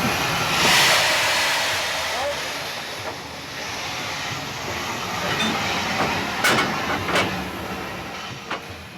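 An Indian steam train rumbles and hisses steadily nearby, with occasional sharp bursts of steam and faint clanking over the continuous noise.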